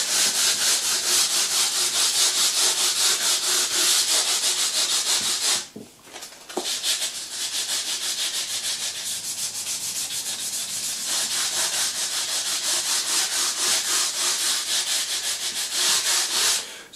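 Fine 800-grit abrasive rubbed along the frets of a Squier Jagmaster guitar, a loud, hissy back-and-forth scrubbing in quick steady strokes, pausing briefly partway through before resuming for a long stretch, with no voices.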